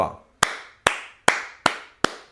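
Slow, evenly spaced hand claps at a sports-club announcement honouring football players, five sharp, loud, close claps in a steady rhythm with nothing else around them.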